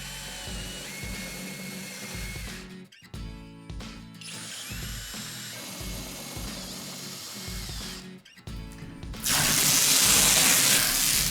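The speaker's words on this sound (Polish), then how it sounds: "Tak zwaną choinką, czyli wiertłem stopniowym, wyrównałem krawędzie otworów" A step drill whirs in repeated bursts with brief pauses between them, deburring the edges of holes in an interior door, close and loud, ending in a louder rush of noise.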